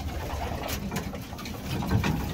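Stock pigeons and hens coo in low, repeated calls at a breeding loft while feeding, steady and close, with faint background noise and no talk.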